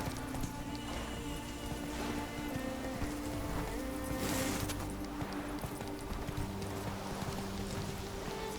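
Hooves of the horse Roach in Witcher 3, clip-clopping in a steady rhythm over a constant bed of game ambience and music, close and moderately loud throughout.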